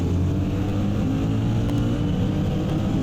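Engine roar of racing cars, a Mustang and a Ferrari, in a simulated sim race video game, as a steady, dense drone with little variation that continues loud throughout.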